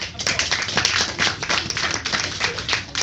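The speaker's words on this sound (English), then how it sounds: "That calls for a huge applause." Crowd applause fills the room at an ITC Gamestorm event, a dense, steady wash of clapping with sharp individual claps standing out throughout.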